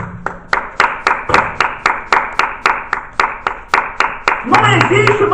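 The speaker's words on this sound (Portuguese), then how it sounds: "Uma salva de palmas." A church congregation applauding during a sermon: rhythmic, evenly spaced group clapping in unison, loud and close, with voices rising over it near the end.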